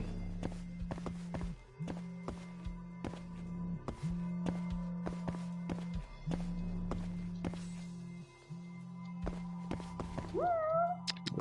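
A cat meows near the end of a stretch of in-game ambience in the video game Judgement, following repeated footsteps and thuds over a steady low hum; the meow is short and fairly clear.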